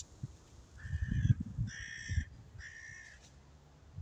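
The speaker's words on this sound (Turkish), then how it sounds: "Kargalar da kafalarını karıştırıyor." Crows give three harsh, nasal caws in a row, fairly close and clear over faint outdoor rustling, with no talking.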